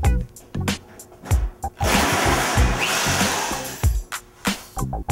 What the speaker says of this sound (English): I'm gonna step it up and try a electric powered jigsaw